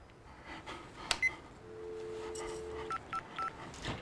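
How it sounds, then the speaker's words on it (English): A telephone number dialed on a keypad: a long dial tone, then a series of short, distinct DTMF beeps in quick succession, faint with some background noise and no talk. "Dial this number."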